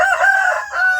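Free-range village chickens with their mother hen in a plywood rearing box, a single close, clear crowing call, loud and tonal, lasting about a second.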